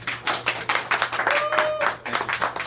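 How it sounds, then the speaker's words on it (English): An audience at a live event bursts into applause with brisk, uneven clapping from a modest crowd, heard at a moderate distance for a few seconds. "let's have a nice round of applause for Kevin Riley"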